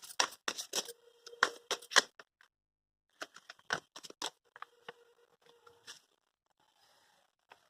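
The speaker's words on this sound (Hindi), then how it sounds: "एक कार्ड निकाल लेते हैं।" A card drawn from a deck during a card reading: a quick run of crisp slides and flicks in two bursts, close and fairly quiet, with soft handling noises between.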